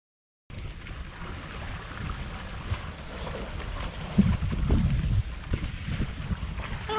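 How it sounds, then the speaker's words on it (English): Wind rushes across a sailboat in steady broadband noise with water wash beneath, rising slightly after a brief silent start and gusting toward the end. "We're starting to get a little bit of wind."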